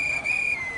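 A shrill, steady whistle blown at a street protest in Harlem, loud and close, sustained as one continuous high tone over outdoor crowd noise.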